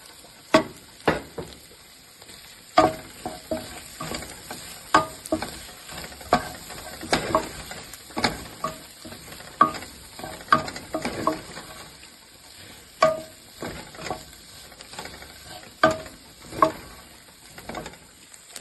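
Garlic frying in a pot for a barley and chicken soup, stirred with a utensil: a steady soft sizzle with repeated sharp scraping and clacking strokes against the pan, close and fairly quiet, no voices.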